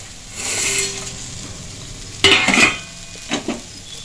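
Maggi noodles with soybean being stirred in a frying pan, a steady sizzle with a clattering burst of spoon scraping metal midway and a couple of shorter scrapes after, no talk.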